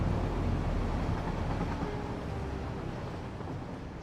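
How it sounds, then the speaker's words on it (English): Train rolling past in Satisfactory: a steady, rumbling wash of noise that holds for several seconds and eases off slightly toward the end, with no talk. "Oh, another train."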